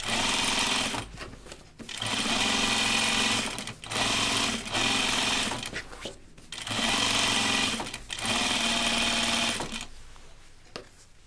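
A sewing machine understitches a seam on a kimono-style shirt dress: several loud, close whirring runs of a second or two each, separated by short pauses, with the machine running nearly continuously.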